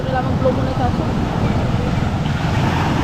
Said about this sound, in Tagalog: Malakas na alon, no?